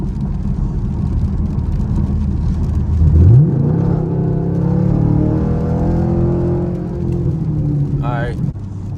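A Chevrolet Camaro SS accelerates on a rainy highway, its engine note climbing steadily as it revs up through a gear, heard from inside the car over constant road and rain hiss, with a brief chirp near the end.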